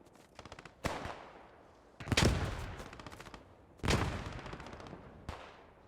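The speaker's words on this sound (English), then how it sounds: "look at the machine gun firing" Machine gun fire in the video game Post Scriptum, heard as several loud rattling bursts a few seconds apart, each fading into a rumbling echo, with quieter rapid shots in between.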